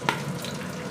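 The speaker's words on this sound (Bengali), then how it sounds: "এই যে শুকনো লঙ্কাগুলো ভাজা হলো" Dried red chillies fry briefly in a pan while mango chutney sweetened with jaggery is made: a short, faint crackle and sizzle with one sharper pop near the start.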